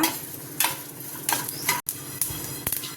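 Sesame seeds sizzle and crackle in a hot pan, loud and close, while a spatula scrapes through them in repeated bursts of stirring.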